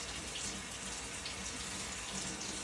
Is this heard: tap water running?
yes